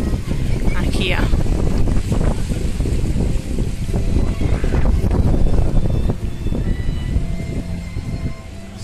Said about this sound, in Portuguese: Se o barulho do vento tiver forte aí, me perdoem, mas é inevitável.